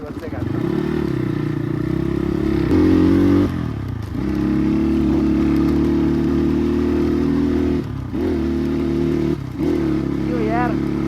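A motorcycle engine drones steadily while riding on a mountain road in Manang, with several brief dips and revs as gears change, loud and close throughout.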